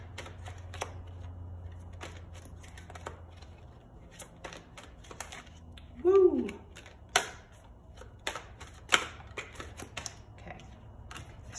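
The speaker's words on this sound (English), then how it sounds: "So I'm gonna do this kind of shuffle real quick just to switch it up." Tarot cards are shuffled in a quick hand shuffle, making soft scattered taps and crisp clicks over a low background hum, with one brief louder burst of card noise.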